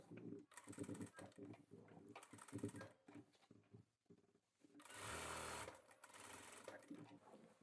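Sewing machine stitching a gents kurta, its rapid needle chatter running in short bursts and stops, loud and close, with a longer sustained run near the end.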